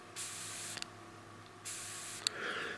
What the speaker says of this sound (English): The fuel only starts to come out as you depress that button.